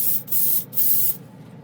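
An airbrush sprays color shift paint in three short bursts of steady, close hiss separated by brief pauses.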